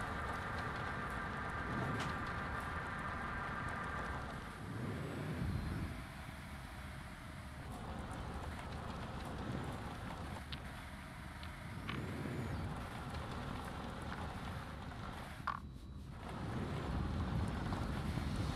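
A vehicle drives around on the Martian surface in Occupy Mars, its engine a steady droning rumble with wind-like hiss and occasional brake-like hisses, continuous and fairly close with no talking.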